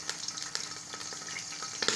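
Chicken gizzards frying in oil with a cinnamon stick, chili and salt, giving a steady close sizzle with crackling pops and occasional stirring scrapes, no voices.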